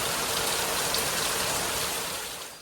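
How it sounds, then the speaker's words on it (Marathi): Steady rain falls continuously, a dense, even hiss of drops that holds at constant loudness before fading out at the very end, with no voices over it. "पाऊस चालू आहे ना"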